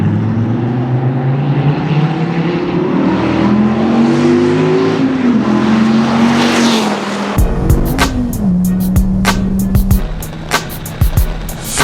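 A sports car with side exhausts, essentially a race car, revs hard in a loud, rising and falling engine drone, then crackles and pops sharply from the pipes as the throttle lifts, close and sustained.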